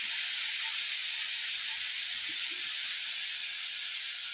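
Masala spices, including mustard, chili and turmeric, frying in a pan, a dense, steady, loud sizzle and hiss that continues unbroken throughout with no talking.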